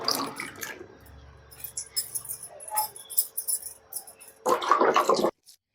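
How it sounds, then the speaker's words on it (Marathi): Water poured out of a bowl after washing fresh turmeric root, a splashing, gurgling pour rising near the end over a quieter stretch of faint trickles and small drips. "हे मी पाणी आता टाकून देणार आहे"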